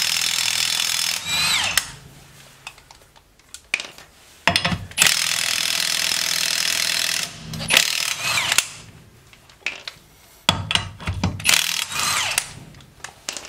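An impact gun works on a rear wheel of a 2011–2015 ninth-generation Honda Civic, giving several long, loud, rattling bursts separated by short gaps and quieter clanks.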